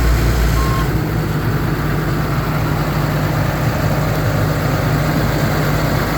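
A 2010 Ford F-750 Altec forestry bucket truck engine holding a steady loud high idle, a constant low drone with a faint brief beep near the start.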